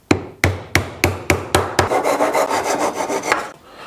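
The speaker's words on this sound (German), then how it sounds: "Und dann einfach die Dübel, was haben wir jetzt da reingejagt, mit der Oberfläche bündig absägen." A hand saw cuts a 14 mm wooden dowel flush with a wood surface, first seven sharp, evenly spaced strokes, then a faster continuous rasping run of strokes, close up with no talk.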